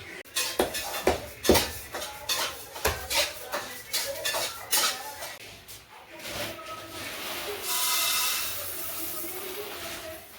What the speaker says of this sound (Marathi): अशा प्रकारे हे धणे मम्मी गरम करत आहे सर्व मसाला तर मम्मी भाजणार आहे हळूहळू